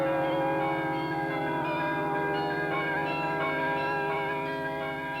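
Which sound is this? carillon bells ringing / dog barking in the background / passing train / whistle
carillon bells ringing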